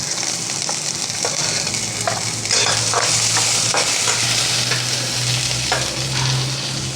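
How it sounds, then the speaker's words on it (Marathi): Onion frying on high heat in a pan while being stirred, prepared for spicy misal: a steady loud sizzle with scraping stir strokes recurring every second or so, no talk. "कांदा पण असंच परतून घ्यायचा, आपल्याला सर्व भाजून घ्यायचं आहे"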